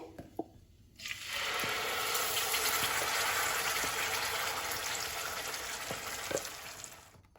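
Onion and tomato paste hits hot oil with spices in a pan, bursting into a loud, steady sizzle after a brief quiet start and holding strong to the end with occasional small pops.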